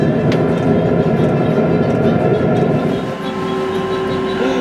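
A steady, deep mechanical rumble and hum runs throughout, a 12V diesel heater in a box truck roaring continuously with a faint tonal whine emerging toward the end.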